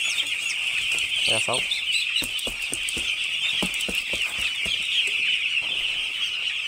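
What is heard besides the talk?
broiler chicks clucking on a poultry farm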